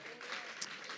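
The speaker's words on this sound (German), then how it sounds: "Wir geben dem Herrn ein fettes Applaus." A brief burst of congregational applause at a prayer and fasting service in Mannheim, dense clapping from many people with a sharp accent near the middle, fairly even and moderately loud.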